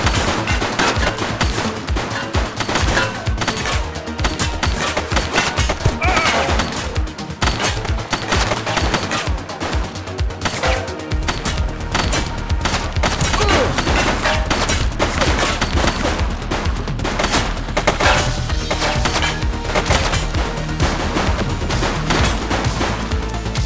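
Gunfire in the police video game The Precinct: a loud, sustained fusillade of rapid shots crackling nonstop for over twenty seconds over a droning backdrop.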